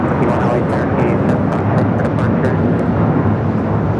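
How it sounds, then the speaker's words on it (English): A United Airlines Boeing 757-300 takes off from LAX for Chicago, a loud, dense jet-engine roar that stays steady and close throughout, with a voice faintly present beneath it. "This is United Airlines 1069 taking off to Chicago on the 757-300"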